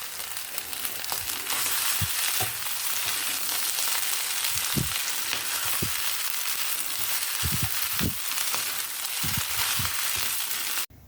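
Javanese fried noodles stirred in a hot pan with fried shallots, a steady loud sizzle broken by repeated scraping strokes of the spatula, with no talk.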